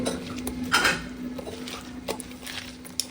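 Raw prawns being mixed with salt, chili, turmeric and cumin powder in a bowl, with soft, close clinks and scrapes of a utensil against the dish, irregular and fairly quiet.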